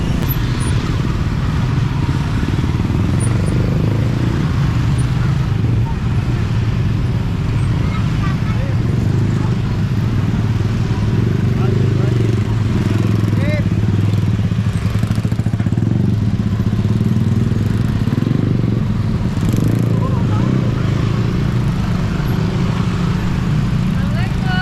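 Steady, dense street traffic in Indonesia, with motorcycles and cars droning and idling nearby in a constant rumble, while people talk over it throughout.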